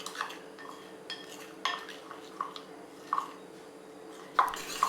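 Milk chocolate being stirred into hot milk for a ganache, a spoon tapping and scraping against a bowl in soft irregular clinks, close and fairly quiet.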